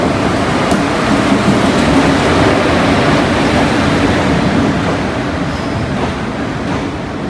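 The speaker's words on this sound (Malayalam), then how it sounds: "നമ്മളെ മംഗലാപുരം എക്സ്പ്രസ് വരുന്നുണ്ട്" The Mangalore Express pulls into a station with a loud, continuous rumbling roar of wheels and carriages close by, steady throughout and fading slightly near the end, with no voices.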